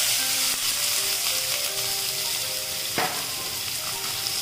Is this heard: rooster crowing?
no